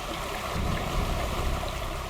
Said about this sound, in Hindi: वाटरफॉल कितना सुंदर है ना पायल?